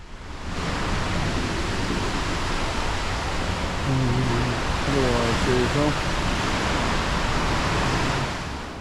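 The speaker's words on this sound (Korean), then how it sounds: "그나저나 파도가 얼만큼 치는지 좀 보시자고요" Ocean waves seen from a Celebrity Solstice cruise ship on a day at sea make a broad, continuous rushing wash that swells and holds, while a voice briefly speaks midway through.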